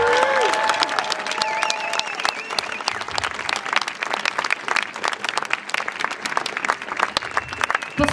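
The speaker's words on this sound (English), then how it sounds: "give second grade a huge round of applause for this incredible work" An audience applauds a second grade class's performance at a school winter event, steady dense clapping filling the room for several seconds, briefly under a speaking voice at the start.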